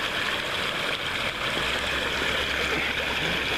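Steady broadband rush of creek water flowing continuously and fairly close, with a low engine-like hum underneath and no talk.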